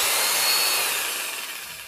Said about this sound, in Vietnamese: khoan Hitachi. Con này có điều tóc có đảo chiều luôn luôn.